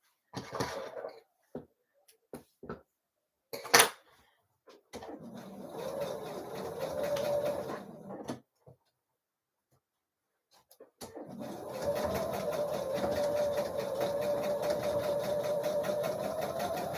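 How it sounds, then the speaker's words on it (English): A sewing machine stitches a dress seam slowly, with short start-stop bursts of motor hum early on that give way to longer steady runs of stitching, close by and fairly quiet. "I'll maybe sew a bit slower over this bit."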